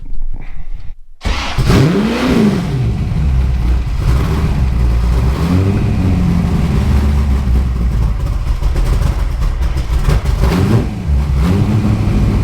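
A Ford GT40 engine cranks and catches, then runs steadily for a long stretch, loud and close, with several rising revs blipping over a rough idle as it warms up.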